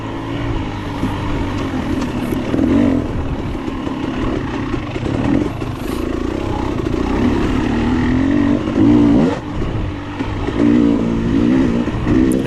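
A 2022 KTM 300 XC-W two-stroke dirt bike accelerates through a tight but fast section of a hare scramble race, a loud, continuous engine drone that rises in pitch as the throttle opens, close to the rider.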